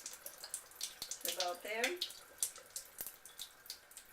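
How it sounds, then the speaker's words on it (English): Water runs from a tap through an SD501 Kangen water ionizer, a faint trickling and splashing with irregular drips, while a person speaks briefly nearby. "let water run through it again before we turn on the power"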